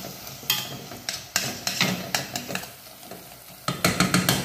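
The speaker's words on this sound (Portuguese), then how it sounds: "Agora eu mexo e deixo mais um pouquinho." Beans are stirred in a sizzling pan with smoked paprika, a spoon scraping and clinking against the pan in irregular strokes over a steady soft frying hiss.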